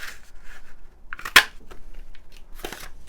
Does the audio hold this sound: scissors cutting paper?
yes